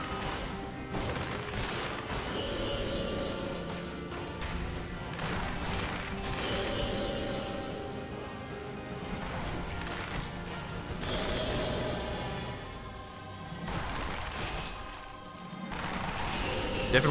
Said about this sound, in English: Definitely want to stay close to the cannon so it still fires.